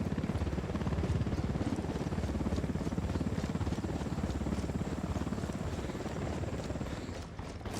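A helicopter in Ghost Recon Wildlands roars with a steady, loud rotor drone for the whole stretch, its blade chop dense and continuous, nearly constant in level, with no speech over it.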